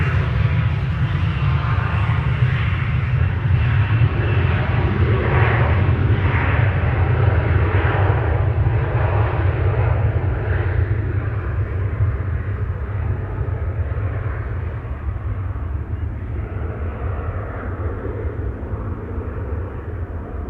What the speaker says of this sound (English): This is KLM Flight 1327 to Krakow in Poland, an Embraer